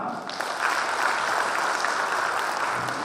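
Audience applause at a regional hometown association's chairman inauguration ceremony, a steady, dense crowd clapping that fills the hall continuously for the whole stretch without pause.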